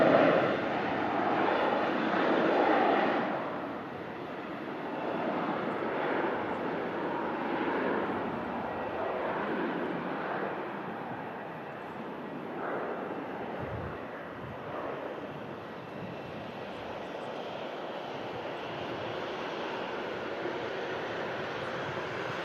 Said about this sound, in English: And Royal Jordanian is now starting a takeoff roll, heading back to Amman. An Airbus A320.